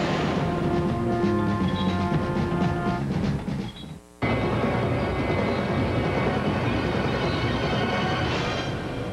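A train pulling away from a station in a television commercial for a rugged Montana vehicle offer, steady rumbling rail noise with a brief dip before continuing loud and sustained, no voices.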